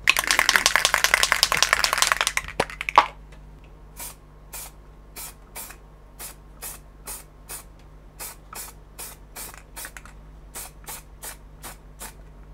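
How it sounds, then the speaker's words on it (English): Railmatch sleeper grime aerosol paint sprays continuously onto a model goods wagon for weathering, then gives way to a rapid series of short, evenly spaced bursts; close and loud, with no talk. "spray the entire thing with the rail match sleeper grime"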